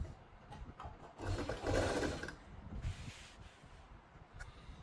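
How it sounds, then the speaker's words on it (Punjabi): A sewing machine stitching the side seam of a kameez, running in a loud whirring burst for about a second, then a second shorter run, with quieter handling sounds between, close up and alone. "ਆਪਾਂ ਇਸ ਤਰ੍ਹਾਂ ਸਿਲਾਈ ਲਾਉਣੀ ਆ ਜੀ"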